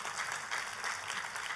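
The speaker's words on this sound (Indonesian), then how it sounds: "kasih tepuk tangan." Church congregation applauding during a sermon, a steady, moderately faint wash of clapping heard alone without talk.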